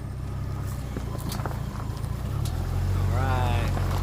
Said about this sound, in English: Driving around my automobile.